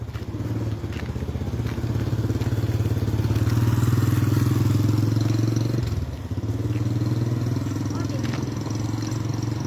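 A motorcycle engine runs steadily and close by at a quiet morning market in Sanggalla, Toraja, growing louder for a few seconds before cutting back, with people talking over the low rumble.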